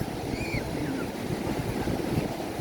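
Ocean surf at Gandoriah beach rolls in as a steady, broad wash of waves with some wind across the microphone, continuous and fairly loud with no talking.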